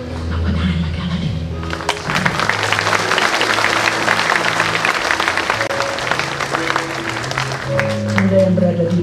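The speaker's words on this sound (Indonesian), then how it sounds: "Tepuk tangan lagi lagi." A church congregation at a large revival gathering in Mamasa applauds continuously, steady dense clapping mixed with crowd noise and music tones beneath, with speech audible throughout.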